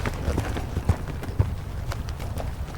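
Hoofbeats of a young colt cantering during its first training, with a rhythmic series of dull thuds on soft ground at moderate distance and a few sharper strikes.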